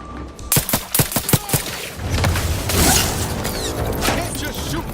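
Rapid bursts of gunfire in The Outer Worlds 2, a cluster of sharp close shots in the first seconds followed by a denser rattling volley and crashing debris, loud and near.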